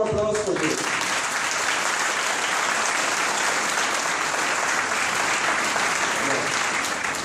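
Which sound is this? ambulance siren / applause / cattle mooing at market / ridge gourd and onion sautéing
applause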